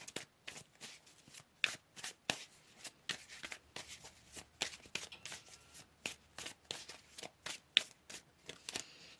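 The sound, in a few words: tarot cards being shuffled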